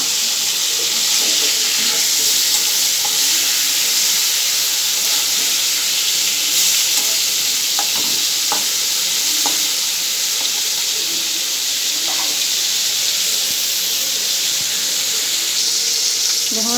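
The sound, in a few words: river fish frying in oil, being flipped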